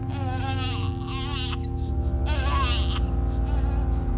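A loud, steady buzzing drone in the horror film It's Alive, like a giant bee, with wavering, whining bursts that rise and fall in pitch over the constant hum.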